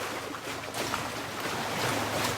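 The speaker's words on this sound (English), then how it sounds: "Enjoy the sound of the waves." Steady ocean waves washing in during an outdoor yoga session, a continuous broadband rush that swells slightly, close and full with no voices.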